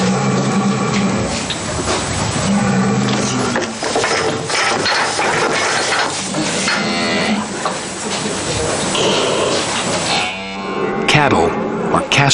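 Cattle low loudly in repeated drawn-out moos close by, overlapping one another, with some metallic clanking of pens or gates in the background.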